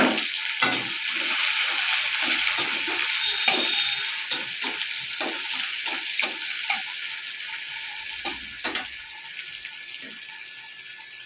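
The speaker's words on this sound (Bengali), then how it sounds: "পেঁয়াজটা ভাজা হয়ে আসছে" Onion with whole cumin, dried red chillies and green chillies frying for khichdi, a steady close sizzle with scattered clinks and stirring scrapes throughout, no voices.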